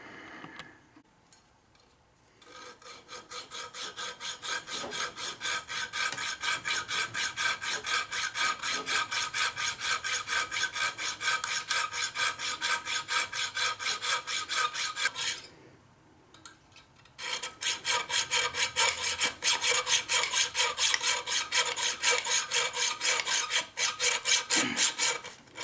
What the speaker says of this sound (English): Time to play with a hacksaw.